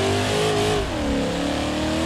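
A racing car engine in a video game revs hard and steady, its loud buzzing tone dipping briefly and then climbing again, with nothing else heard.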